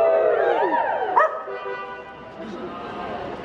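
A dog at a mock wedding outside Tory HQ yips and whines with rising and falling pitch, loud and close, while people talk over it.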